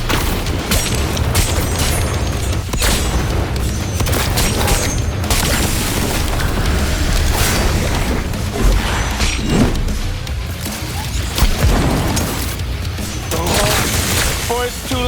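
A bomb blast in the game Cyberpunk 2077 Phantom Liberty, dense and loud, with booming crashes and rumbling debris filling the whole stretch under game music and effects.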